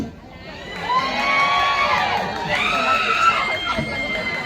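A large concert crowd of Thai fans in Chiang Mai cheers and screams loudly, with high shrieks and whoops rising and falling in a sustained, excited roar.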